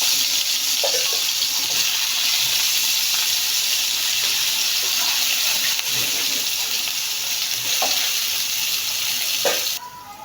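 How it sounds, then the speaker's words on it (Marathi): Potatoes frying in a little oil in a pan, giving a steady, close, even sizzle with a few faint clinks and stirs and no talking. "आता मी हा काढून ह्याच्यामध्ये थोडंसं तेल टाकून ह्याच्यामध्ये बटाटा फ्राय करून घेणार आहे"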